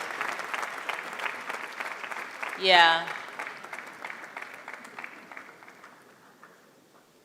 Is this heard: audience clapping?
yes